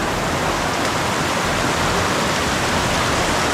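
Broadband rushing of a river flowing close by, loud and steady without a break, with no voices heard over the torrent.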